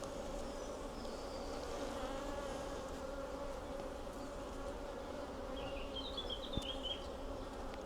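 Darker, somewhat grumpy honeybees hum in a thick, unbroken drone around an open hive frame of brood, near and steady, with a faint knock near the end and no voices.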